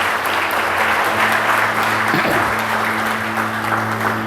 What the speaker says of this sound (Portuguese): Se você desejar aplaudir a Jesus, aplaude.